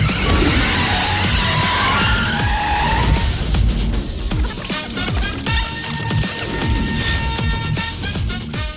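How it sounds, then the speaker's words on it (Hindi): A jeep pulls up outside a police station, its engine revving loudly with squealing, skidding tires and rapid clattering impacts, the vehicle sounds close and busy throughout. "बाहर किसी जीप की आवाज सुनाई दे रही है।"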